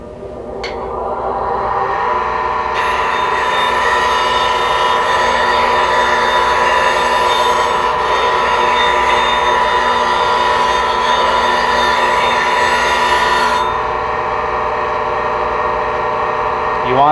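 A spindle roughing gouge is ground on a lower grit wheel, giving a loud continuous whirring grind with a steady high metallic ring that starts after a short spin-up and runs unbroken for most of the clip, with speech audible.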